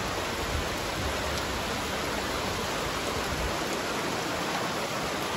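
Rain falls steadily at a campsite, a dense continuous hiss without pauses or voices, evenly loud throughout.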